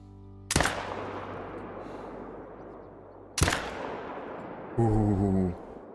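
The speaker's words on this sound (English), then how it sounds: "two incredible shots" Two loud, sharp hunting-rifle shots fired at bucks about 325 to 350 yards away in the hunting game Call of the Wild, spaced about three seconds apart, each with a long rolling echo that fades out.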